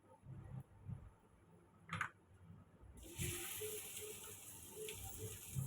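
Turmeric joins mustard seeds and cumin in hot oil in a wok for an okra stir-fry. After a few soft clicks and knocks, a bright, steady sizzle suddenly begins partway through and continues to the end.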